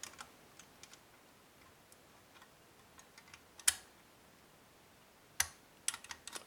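Small, faint pin clicks come from a CISA lever lock as it is picked, sparse and irregular ticks with a couple of sharper louder snaps against near silence.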